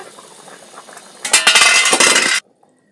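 A lid lifts off a pot of thin fish curry with papaya, ridge gourd and potatoes, releasing a loud, brief rush of bubbling and clinking for about a second before cutting off to silence.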